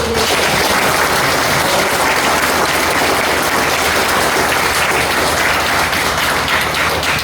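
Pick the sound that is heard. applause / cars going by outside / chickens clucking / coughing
applause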